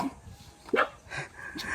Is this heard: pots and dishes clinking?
no